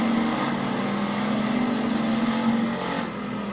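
A race car on the final laps at Barberton Raceway Park drones with a steady engine hum, fairly loud and constant, easing slightly at the end.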